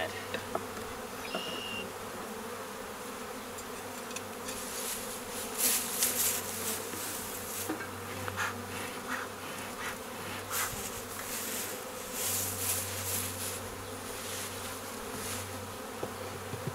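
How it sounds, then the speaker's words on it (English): Honey bees buzz steadily and densely throughout, a continuous swarm drone close by as a trap of bees is emptied into a hive body, with louder surges as the insects stir and pass near. "taking a trap of bees and putting it in to a hive body."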